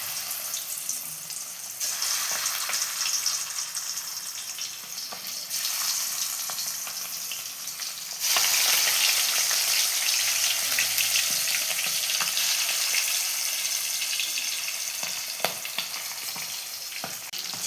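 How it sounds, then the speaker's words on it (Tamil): Chicken pieces deep frying in hot oil for a Sunday chicken biryani, a steady crackling sizzle that carries on throughout, growing louder and denser about halfway through, with a few sharp pops and no talk. "காஞ்சதும் சிக்கன் பீஸ் எடுத்து போட்டு பொரிச்செடுக்கணும்."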